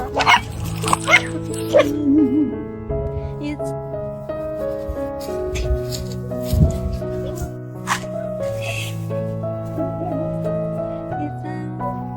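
Several stray roadside puppies yip, whimper and bark in short bursts, with people talking softly in between, close by.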